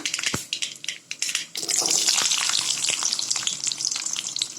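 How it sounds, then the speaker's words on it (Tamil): Mustard seeds and small onions drop into hot oil in a pan, bursting into a loud crackling sizzle after a few opening clatters, then frying steadily and close by with no voices. "இதோட சின்ன வெங்காயத்தை சேர்த்துக்கோங்க."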